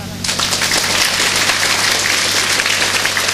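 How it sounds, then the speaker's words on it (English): An audience at a seminar session claims loud, dense applause that starts abruptly and continues steadily to the end. "Clap."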